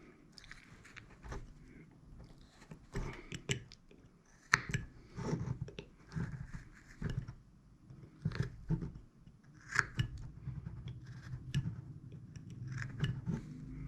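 A knife whittles cuts into a carved wooden face, giving quiet, close scraping and slicing strokes in irregular short bursts with pauses between them.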